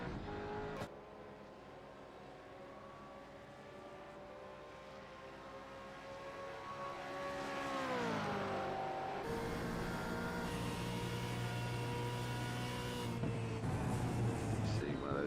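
A Gen3 V8 Supercar in a sim racing game revs and accelerates hard, its engine note sweeping up and holding a loud, droning pitch while a commentator talks over it.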